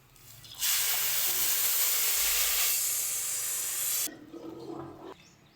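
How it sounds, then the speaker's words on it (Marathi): Hot water is poured into a cooker of rice and dal, bursting into a loud, close hiss of sizzling steam for a few seconds before fading into softer bubbling. "ह्याच्यामध्ये आपण हे बाजूचं गरम पाणी ठेवलेलं ते ह्याच्यामध्ये टाकूया"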